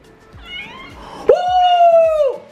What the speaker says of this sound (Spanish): Si tú tienes muchas ganas de hacer miau.